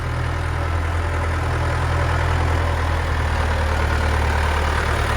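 A big farm tractor idles steadily in the middle of a green sunflower harvest in the UK, its deep, even engine rumble loud and close throughout, with no talk over it.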